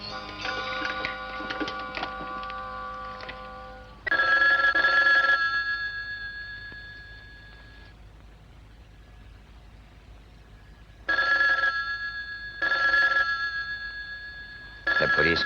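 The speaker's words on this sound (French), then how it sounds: "Monsieur Templar, je vais sonner un moment, je vous prie." A telephone rings in repeated bursts of a bright, steady bell tone, loud and close, with pauses of silence between rings. Speech and other sounds mix in at the start before the ringing takes over.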